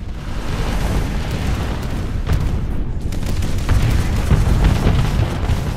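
Missile explosions striking ship shields in the space combat game Starsector, a dense, continuous barrage of booming blasts and bursts that stays loud throughout, with no talking.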